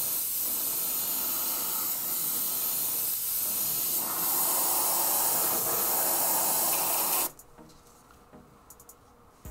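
A steady airbrush hiss lays a wet coat of Createx paint onto an RC car body, continuous and fairly loud for about seven seconds, then cuts off abruptly, leaving faint scattered clicks and near silence.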